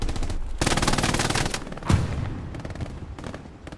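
A machine gun in Hell Let Loose rattles off rapid bursts of automatic fire, loud and close, broken by short pauses, with one sharper crack standing out midway and fainter bursts trailing at the end.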